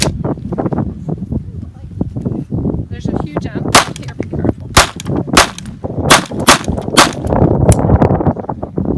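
Calico M100 pistol firing a string of sharp, loud shots, several in quick succession and some spaced irregularly, over steady wind noise on the microphone with a voice talking in between.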